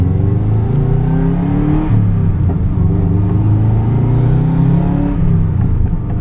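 A Subaru 2.5RS with a swapped turbocharged EJ205 engine pulls hard from inside the cabin, with a loud, steady drone and rumble whose pitch rises and falls through gear changes and no talking.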